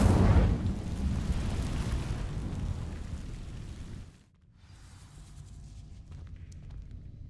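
Incendio fire spell cast in Hogwarts Legacy, a loud whooshing fiery burst with deep rumble that decays over about four seconds, then a quieter crackling tail.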